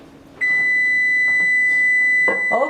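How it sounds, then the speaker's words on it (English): An oven timer beeps one long, loud, steady tone for about two seconds, then cuts off, with a short clatter after it in a quiet kitchen. "our timer is going off"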